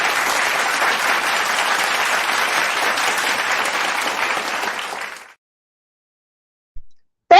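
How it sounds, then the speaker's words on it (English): A round of applause from an audience, loud and continuous for about five seconds, then cutting off abruptly into silence before a brief sound at the end. "Where's my round of applause?"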